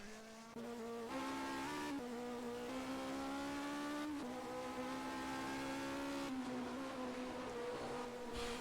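A Cosworth engine in a 1979 Formula 1 car at Buenos Aires howls at high revs, its pitch climbing through gear changes in repeated rising sweeps, loud and continuous with no voices.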